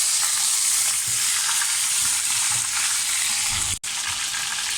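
Green chicken tikka frying in a pan gives a loud, steady, close sizzle throughout, with a faint low stirring rumble and a brief dropout near the end.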